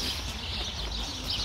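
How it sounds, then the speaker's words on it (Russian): Birds chirp and twitter in a steady outdoor spring chorus, fairly faint, with constant background noise and no talking. "Вы слышите, птички поют?"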